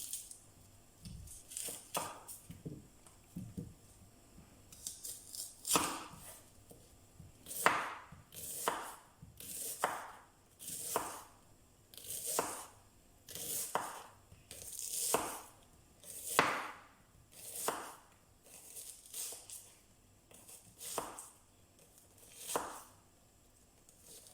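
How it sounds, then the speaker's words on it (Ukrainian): A kitchen knife cuts an onion into quarters on a board, making a series of crisp, close chopping strokes with short pauses between them. It is part of preparing pork goulash with gravy. No one speaks. "Цибулю я розрізаю на четвертинки."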